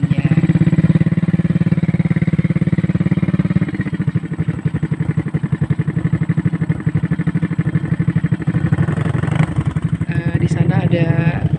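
A motorcycle engine runs steadily as the bike travels over heavy, rough terrain, its throbbing drone loud and close throughout with clattering, shifting pitch as the rider keeps balance.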